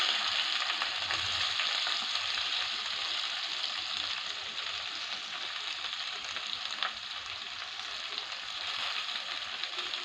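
Onions sizzle loudly as they fry in oil with garlic, a dense, steady crackling hiss that holds close and continuous throughout, with no talk.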